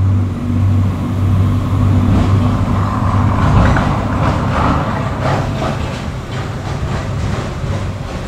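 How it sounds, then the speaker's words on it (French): A truck passes by outdoors, a loud, steady rumble with rattling, clattering undertones that swells and lingers for several seconds with no voices. "il y a un camion qui passe"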